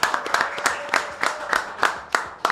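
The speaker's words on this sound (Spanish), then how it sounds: "vamos a recibir con un fuerte aplauso" A small studio audience claps to welcome a guest, with loud, close, uneven bursts of clapping in a rapid rhythm.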